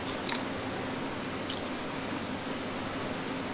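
Crunchy homemade Pringles-style potato chips with paprika and salt being bitten, giving two short, crisp crunches a second apart in a quiet room.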